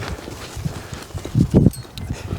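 A horse's hooves clop on the ground as it is backed up, irregular steps of varying loudness with two heavier thuds near the end, close by and alone.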